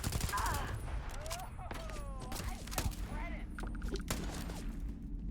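Bursts of gunfire from a gun in the sci-fi video game Starfield, rapid shots crackling throughout over a busy backdrop of game effects, with a voice talking in places.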